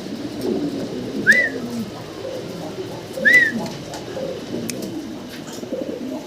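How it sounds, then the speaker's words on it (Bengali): Lahori fancy pigeons, a pair, with two short rising coos standing out about two seconds apart over a constant murmur of background cooing and rustle, moderately close. "আমরা এক পেয়ার ভাইয়ের কাছে লাহোরি কবুতর দেখতে পারতেছি"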